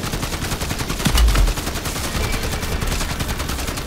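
A sentry gun in MW Zombies fires a sustained stream of rapid automatic shots, loud and dense throughout amid chaotic game sounds, with a heavier thump midway.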